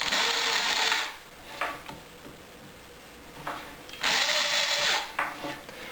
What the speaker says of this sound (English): Drill a couple pilot holes, which again is not strictly needed.